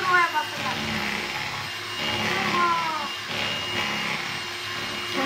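An electric mixer whirring as it beats cake batter, a steady buzzing motor with shifting pitch as the beaters move through the mix, while children and adults talk over it.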